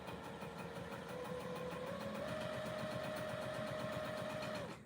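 A Juki 2000 sewing machine runs steadily and close by, with a rapid stitching rattle over a sustained motor hum that rises slightly in pitch partway through, then stops abruptly at the end.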